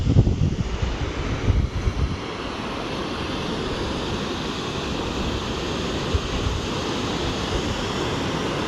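Strong wind blows at Khadakwasla dam, a constant roaring rush with heavy buffeting on the microphone, loudest in a gusty opening burst and then holding steady with no one talking.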